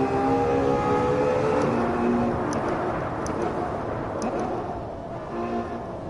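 A Ferrari from the Assetto Corsa 70th Anniversary pack accelerates hard with traction control off, a loud, steady engine roar whose pitch climbs through the gears and stays close throughout.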